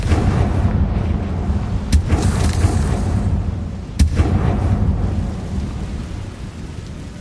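Confringo fire spell blasts in Hogwarts Legacy combat: two sharp, loud explosive cracks about two seconds apart, each trailing into a rumbling roar over a dense, continuous layer of game noise.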